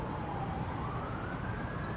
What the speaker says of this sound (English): you hear the sirens going every day and night